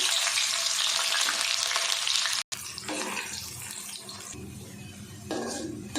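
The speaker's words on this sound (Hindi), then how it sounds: "अब इसमें प्याज डाल देते हैं" Onions go into half a cup of hot ghee for chana dal pulao, and a loud, dense crackling sizzle fills the clip, briefly cut off midway, then settles into a steady hiss with occasional stirring.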